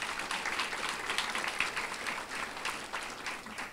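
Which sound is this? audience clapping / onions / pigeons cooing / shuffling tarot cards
audience clapping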